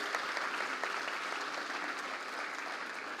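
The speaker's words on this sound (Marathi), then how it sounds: "प्लीज टाळ्या वाजवून घ्या स्वतःसाठीच" A conference audience at a bank employees' association gathering claps steadily, a dense, even roar of many hands that carries through without pause.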